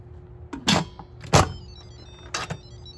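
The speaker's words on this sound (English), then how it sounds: "Let's close the lid." An Instant Pot lid being shut, heard as a few sharp bursts of clattering, scraping contact, the loudest near the middle, with a quiet hum between the bursts.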